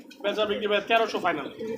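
Pigeons cooing at a busy pigeon market, a run of throaty, rolling coos close by, mixed with nearby voices.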